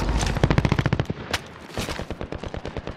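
Rapid bursts of automatic gunfire in a battle-royale shooter video game near a superstore: loud, close, rattling volleys with brief pauses between strings of shots.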